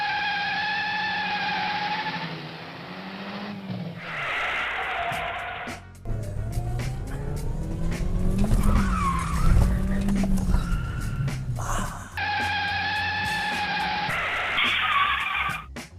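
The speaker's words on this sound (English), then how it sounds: "I'll do a couple of manoeuvres that I've got the world record for, like the parallel park and the J-turn." A Mini car runs through stunt moves like a parallel park and J-turn, its tyres squealing in long loud skids while the engine revs and roars, the squeal rising and falling across the run.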